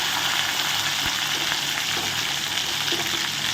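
Finely chopped onion and green chili sauté in oil with curry leaves for a beetroot curry, giving a loud, constant hissing sizzle up close, with a faint knock early on and no voices.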